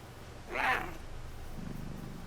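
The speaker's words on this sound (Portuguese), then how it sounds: "Fazer um carinho no gatinho aqui" A cat purring as it is petted in the Warframe video game, a short soft burst of purr rising and fading in the middle of a quiet game background.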